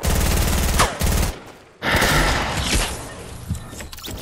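Loud, dense gunfire rings out during a Fortnite match, with rapid overlapping shots, a short lull and then more bursts and clatter close by.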